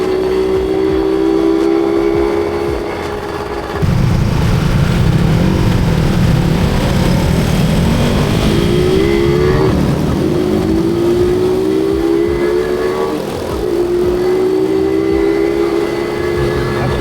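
A Yamaha 125ZR motorcycle with its standard exhaust rides along, engine droning steadily close by and rising and falling in pitch as it shifts through gears, with wind rush underneath.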